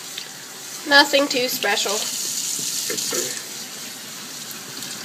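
Tap water runs steadily while paint brushes are rinsed at a sink, a continuous close wash with brief splashing, and a voice talks briefly over it near the start.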